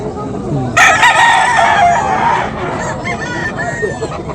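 A rooster at a Friday market in Bocaue crows loudly and close, with clucking fowl and a busy market bustle around it.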